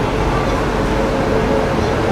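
The Howrah Mail express pulls out of Chennai Central, heard from on board as a loud, steady broadband rumble of the moving train, with no distinct clanks and no voices.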